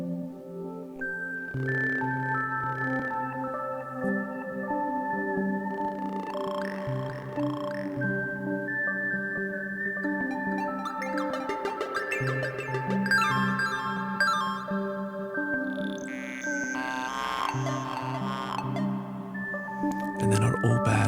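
A Eurorack modular synthesizer patch plays layered sustained tones whose pitches shift in overlapping steps, with bright harmonic textures and squelchy flourishes building into a dense, continuous musical drone.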